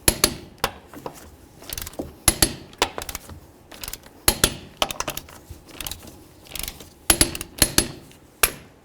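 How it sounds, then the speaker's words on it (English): Torque wrench clicking as lug nuts are tightened to 100 foot-pounds on a 1994-2004 Chevy S-10 front wheel, a series of sharp, close metallic clicks and ratchet snaps in irregular bursts, with no talk. "let's torque these to 100."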